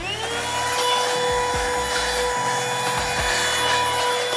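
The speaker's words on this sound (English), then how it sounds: "So already we can use that vacuum I recommended." A vacuum cleaner runs steadily and loud, its motor whine holding throughout with low rumbling shifts as it sucks dirt and straw from inside a Mercedes Sprinter van.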